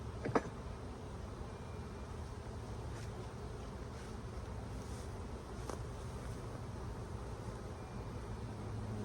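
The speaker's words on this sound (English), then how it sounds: "Still a lot of bees up there, I can tell." Honey bees buzzing around pulled honey supers at an outdoor hive, a faint steady drone of many insects with wind and low background rumble, plus a few soft clicks and knocks.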